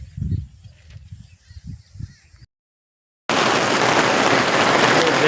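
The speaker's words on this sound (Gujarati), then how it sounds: "વરસાદ કેવો પડે બહુ ચાલુ થઈ ગયો" Heavy rain pours down in a steady, dense rush after a stretch of rural background noise and a brief silent gap.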